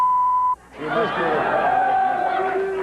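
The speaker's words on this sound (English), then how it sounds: "I'm sure we'll beep that out for you folks." A loud steady censor beep tone lasts about half a second, cutting off abruptly before a voice continues speaking.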